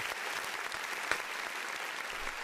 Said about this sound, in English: let's get a round of applause there